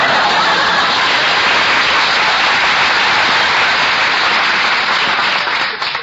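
Sustained applause from a studio audience at a live radio comedy show, dense steady clapping filling the whole stretch, loud and close, tapering slightly at the end.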